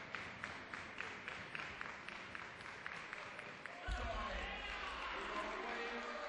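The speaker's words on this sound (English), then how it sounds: "Crowd are starting to get behind them again." Cricket crowd at an under-19 World Cup match clapping in a slow, regular rhythm, faint and distant, then giving way to a broader murmur of crowd noise with a commentator's voice over it.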